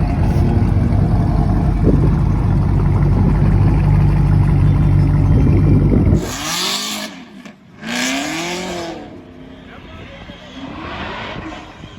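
A supercharged Pro Charge Camaro at a drag strip gives a loud, close, low engine roar for several seconds, then cuts off into sharp revving surges and fading engine noise.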